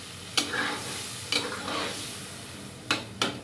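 Boiled beetroot and its cooking water poured onto potatoes frying in a pan: a steady, close hissing sizzle broken by a few sharp stirring scrapes, with no voices.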